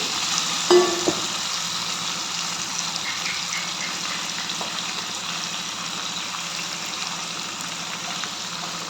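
Paneer cubes sizzle steadily in an oiled pan for paneer biryani, a continuous close frying crackle with a single sharp clink of a utensil early on.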